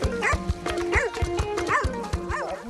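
A dog barks repeatedly in short, sharp bow-wows with a few higher yips, fairly close and steady in rhythm over faint background noise, at a Fulani cattle herders' settlement with camels, sheep, goats, donkeys and horses.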